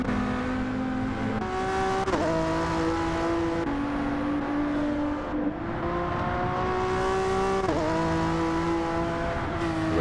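Racing cars from the Gran Turismo 7 Manufacturers Cup at Tokyo South, including a BMW, roar steadily past with sustained engine tones that rise and shift pitch as several cars go by one after another, loud and continuous with no talk.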